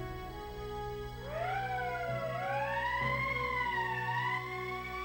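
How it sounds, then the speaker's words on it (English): Emergency siren in the video game Valkyria Chronicles, a rising and falling wail that starts after a second and keeps sweeping up and down over a steady musical drone, loud and with no talk. "That's the emergency siren."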